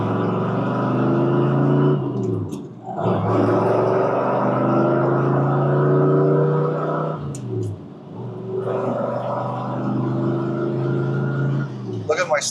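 A 1967 Corvette with a 427 engine pulls away and accelerates on the road, a steady, loud engine drone whose pitch climbs through each gear, dropping briefly at two gear changes.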